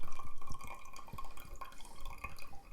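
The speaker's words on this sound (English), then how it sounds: "You just pour. Dump in everything, including the grinds." Water is poured into a mason jar of coffee grounds for cold brew, a close, continuous bubbling and gurgling stream with a faint glassy ring and no talk.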